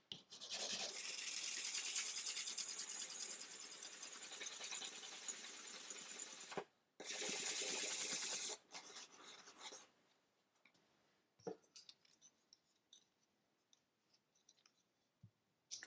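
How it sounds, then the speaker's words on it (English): Sanding the foot of a wooden cello bridge by hand, a close, loud rasping scrape sustained for several seconds, a short pause, another burst of scraping, then quiet scattered taps and handling clicks. "So I'm just going to sand this off some more."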